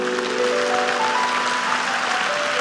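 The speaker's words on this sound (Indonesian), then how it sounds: "mau kasih tepuk tangan untuk Tuhan silakan" Sustained applause from a church congregation, continuous and fairly loud, with faint musical tones lingering underneath.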